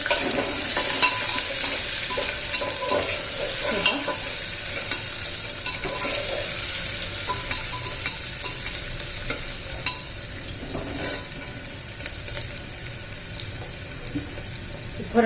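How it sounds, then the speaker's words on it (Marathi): Chopped onion sautés in oil for sambar, a sustained close sizzle broken by repeated spatula scrapes and stirring knocks over several seconds, no speech. "कांदा घालायचा परतून घ्यायचं आहे"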